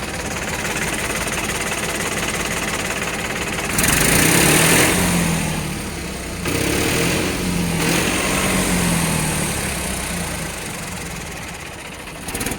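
A Mahindra tractor engine runs close by at a steady idle, a continuous throbbing rattle with brief rises in revs and louder surges in the middle before settling back down.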